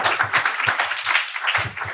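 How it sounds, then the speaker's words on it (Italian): An audience at an Italian conference on business organization and workplace well-being applauds, a dense patter of close clapping for about two seconds with no voices over it. "Un applauso."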